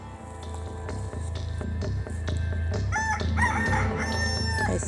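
A rooster crows loudly and close by over a dense outdoor background with low rumbling and other bird calls, the crowing building in the second half.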